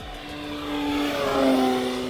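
Hangar 9 Fun Scale PT-19 balsa RC plane with a 56.5-inch wingspan at full throttle, its engine drone rising steadily in pitch and loudness as it makes a low pass, continuous and fairly near with no talk.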